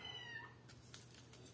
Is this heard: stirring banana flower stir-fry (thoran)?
no